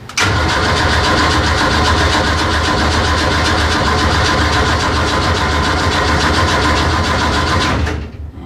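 A Mini engine, modified, starts from cold and runs at a loud, steady, close idle for about eight seconds before it is shut off and cuts out.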